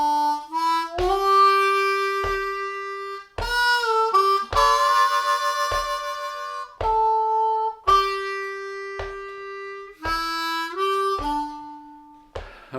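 Bluesy Amazing Grace lick on a C harmonica, a sequence of clear sustained reedy notes with bends and short chordal bursts, played slowly in 3/4 time, close and alone.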